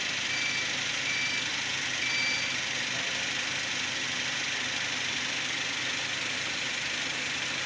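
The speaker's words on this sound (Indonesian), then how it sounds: "ini posisi mesin stasioner" A 2010 Toyota Avanza Type E engine idles steadily during an exhaust emission test, a constant broadband hum with faint high beeping tones from test equipment, no talking.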